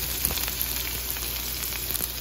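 Peppers hit a hot frying pan with a steady, close hiss of sizzling oil, constant and bright for a couple of seconds with faint crackle, no voices.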